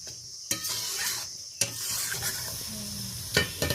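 Masala spice paste is stirred with water in a frying pan, spatula scrapes landing in a few sharp bursts over a soft continuous sizzle, close up, for a recipe of pointed gourd with prawns.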